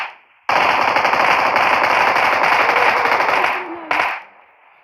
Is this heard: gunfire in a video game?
yes